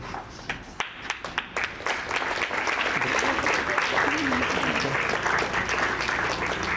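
Applause from a crowd of students at a school shield award ceremony, a few scattered claps at first building into sustained, dense clapping that fills the rest of the clip.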